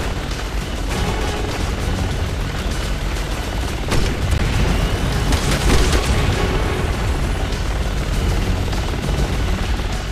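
A helicopter in Resident Evil 6 keeps up a dense, loud roar throughout, mixed with booming blasts and heavy in-game action noise, with no voices.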